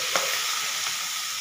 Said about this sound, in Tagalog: Tapos ilagay na natin yung ating sitaw,